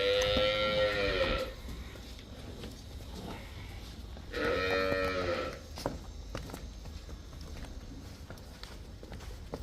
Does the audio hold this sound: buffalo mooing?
yes